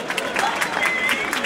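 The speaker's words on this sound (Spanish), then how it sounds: "Aplausos, por favor." A brief, busy burst of crowd clapping at a festival raffle draw, close and fairly loud, lasting under two seconds.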